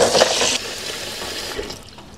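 Cold water pours and splashes over freshly boiled eggs in a bowl, a loud gush at first that settles into a softer trickle and slosh, with no talking.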